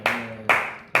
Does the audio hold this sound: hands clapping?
yes